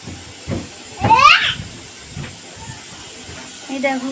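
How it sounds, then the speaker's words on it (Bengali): A pressure cooker whistle releases a hissing, shrill burst of steam in a home kitchen while dal cooks, rising briefly then fading among background voices and household noise. "কুকারের সিটি হচ্ছে"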